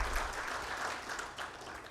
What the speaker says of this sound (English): we need to give a louder applause to His Excellency Jan Shadik